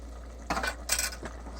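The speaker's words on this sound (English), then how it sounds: "Stir it all together" Spoon scraping and clinking inside a pot of camping goulash made with ground beef and canned tomatoes, three short metallic stirring bursts over a steady low hum.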